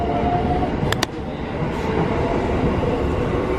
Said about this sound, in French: On attend le métro, il arrive à 17h27.